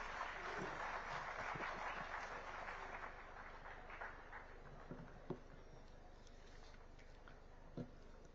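Faint, steady applause from an audience at a Rajasthan government MoU signing event, welcoming Education Minister Dharmendra Pradhan, a dense patter that holds for several seconds and thins slightly toward the end.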